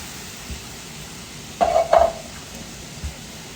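Diced tomatoes from a 14-ounce can are stirred into a pan of Southern tomato gravy, giving two short wet scraping strokes close by over a soft background sizzle.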